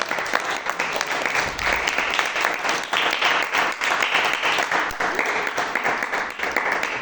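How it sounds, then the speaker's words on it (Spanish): A church congregation gives sustained applause, a dense and steady roar of many hands clapping together at an even loudness throughout. "denle una ofrenda de palmas"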